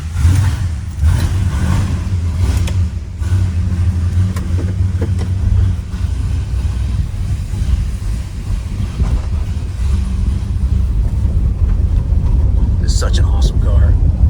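A rare 1970 Plymouth Road Runner with a 383 V8 engine rumbles close by, a deep, steady low-end idle that holds constant and rises slightly near the end.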